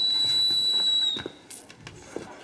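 A sustained high-pitched whistle is blown by a woman in a military-style school setting, holding one steady tone for about a second before cutting off, followed by faint shuffling and quiet background noise.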